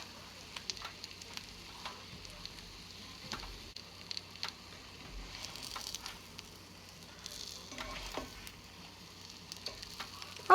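French toast frying in a pan on the stove until golden brown, a quiet steady sizzle with soft crackles and pops scattered throughout, heard fairly faint and alone without voices.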